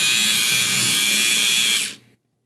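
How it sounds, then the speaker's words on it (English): A Dremel rotary tool spins at high speed with a bright, steady whine while working on a 3D printer power supply case for an Elegoo Neptune 2S, then cuts off and spins down to silence. "I've used a Dremel before, but it made a different sound."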